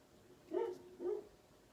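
A dog barks twice in quick succession, soft and somewhat distant, against a quiet indoor background.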